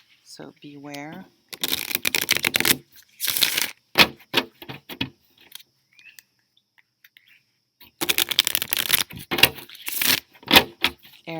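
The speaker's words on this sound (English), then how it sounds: "I'm going to shuffle. It might be loud" A deck of tarot cards being shuffled close up in loud, crackling bursts at two points, with someone speaking briefly between them.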